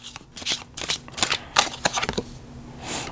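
Tarot cards riffling and flicking as a deck is shuffled and cards are drawn, a quick close-up run of crisp papery slaps that fades at the end, without any talk.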